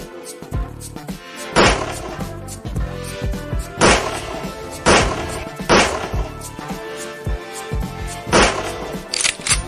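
Periodic heavy gunshot-like thuds from a gun bar in a video game, about five sharp loud bursts spaced roughly two seconds apart over steady game background sound, with no talking.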